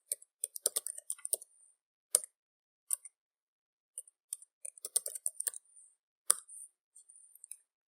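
Computer keyboard keys are typed in irregular bursts of sharp, close clicks with short pauses while an administrator password is entered during Windows Server 2012 R2 setup, with no talking.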